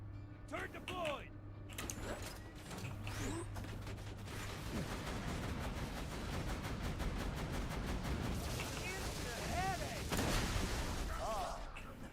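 Turret gunfire in Borderlands 2 rattles in rapid mechanical bursts through a dense mix of game effects, with a voice briefly audible at points.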